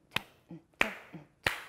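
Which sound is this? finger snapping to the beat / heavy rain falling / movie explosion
finger snapping to the beat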